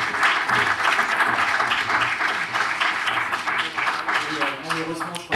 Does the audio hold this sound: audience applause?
yes